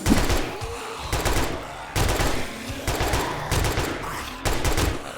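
Rapid bursts of gunfire from newly acquired weapons in the zombie survival game 7 Days to Die, several loud volleys separated by short pauses, firing close and continuous with no talk.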